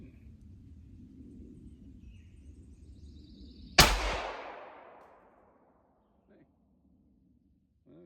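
A single loud shot from a .44 Remington Magnum test load, a sharp blast with a long ringing decay after a few seconds of quiet outdoor background, followed by near silence.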